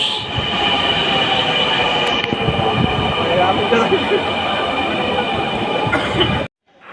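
A Dhaka metro rail train at a busy station, a loud continuous rumble with high whining tones and wheel squeal, running steadily for several seconds before cutting off abruptly.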